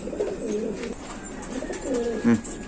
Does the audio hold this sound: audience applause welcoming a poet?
no